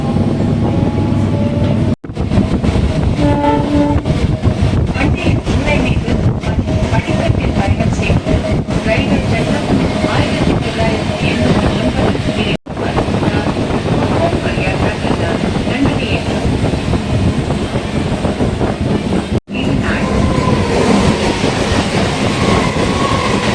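Chennai suburban local commuter train rolling steadily along the rails, a dense continuous rumble with rattling carriage noise and wheel clatter throughout, close and loud, with a few brief dropouts.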